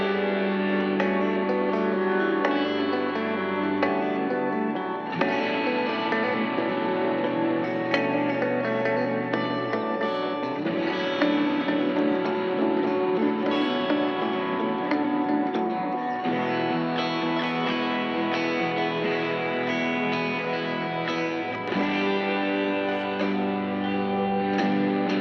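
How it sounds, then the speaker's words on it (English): A dense wall of twelve layered electric guitar tracks from a Logic Pro session, sustained and effects-heavy with distortion and echo, playing continuously at steady loudness with no voices. "So these 12 guitar tracks, they sound like this."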